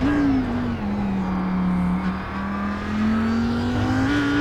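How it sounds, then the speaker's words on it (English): A GT3 race car on Road Atlanta in the iRacing sim coasts through corners, its engine a steady loud drone whose pitch dips and rises gently as it rolls off the throttle and eases back on. "He's rolling out of the throttle early, and he's just coasting that car through the corners."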